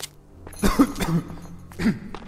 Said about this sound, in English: Oh, how long have you had that cough?